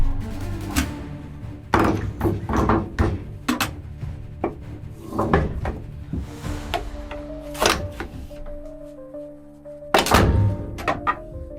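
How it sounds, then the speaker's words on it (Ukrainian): A series of heavy metallic thunks and clanks as an artillery round is loaded, at irregular intervals, close by, with rubbing and scraping between the impacts. "Андрій, давай заряжай другий постріл."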